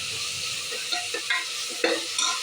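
Ginger garlic paste, green chilies, mint and coriander sizzle loudly in hot oil while a spoon stirs them, with a few sharp scraping strokes over the steady frying hiss, close up.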